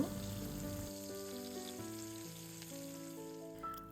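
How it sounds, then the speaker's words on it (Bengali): Fish fry in hot oil, giving a steady close sizzle that holds at an even level for about four seconds, with tonal sounds running alongside. "আর এখন হচ্ছে আমি মাছগুলাকে ভেজে নিব"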